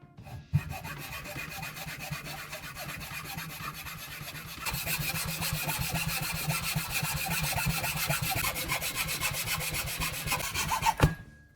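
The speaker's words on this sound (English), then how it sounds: "Using a handsaw, I cut along the line I just marked." A handsaw cuts a wood block clamped in a vise for a chisel-sharpening guide, with steady, slow, rhythmic rasping strokes that grow louder midway and continue close up until the cut finishes.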